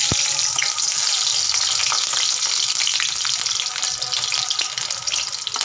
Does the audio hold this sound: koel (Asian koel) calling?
no